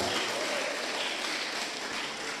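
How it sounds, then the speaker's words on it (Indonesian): An audience at a Christmas church celebration claps for a youth choir, a brief, dense wash of applause from many people that holds at a steady level. "Sekali lagi tepuk tangan untuk Tamarunang."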